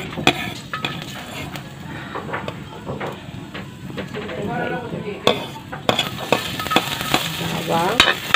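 Garlic fries in hot cooking oil in a home kitchen, a steady crackling sizzle with scraping and stirring of a utensil against the pan, occasional clinks of cookware and brief talk in the background.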